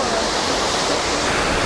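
A mountain waterfall beside a hiking trail in the Bavarian Alps gives off a steady, dense roar of rushing water, loud and unbroken throughout, with no distinct pauses.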